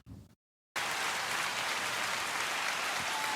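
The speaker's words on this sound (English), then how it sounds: "Can we start off with a round of applause for Bad Bunny?" Audience applause for Bad Bunny: after a short bit of noise and a moment of silence, a dense, steady wash of clapping starts abruptly and continues evenly to the end.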